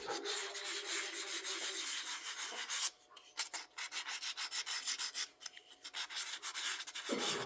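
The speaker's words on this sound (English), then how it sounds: "before I glue, I'm finishing up sanding" Steady abrasive rubbing of sandpaper on a wooden knife handle, close and continuous, with a brief pause partway through before the strokes resume.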